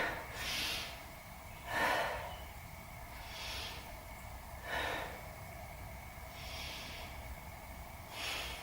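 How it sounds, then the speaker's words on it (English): Slow, deep yoga breathing during a stretch, soft airy inhales and exhales repeating about every three seconds, close and quiet over a faint steady hum. "Let's take 3 breaths there."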